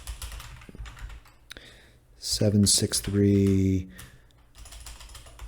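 Quick bursts of computer-keyboard typing in a home office setting, clacking close to the microphone between stretches of someone talking.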